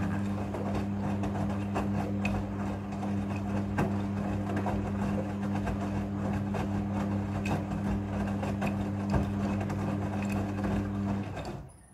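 A Midea front-loading washing machine on its water rinse cycle, a steady mechanical hum with a constant low tone, soft sloshing and faint clicks, close and even throughout before cutting off at the end.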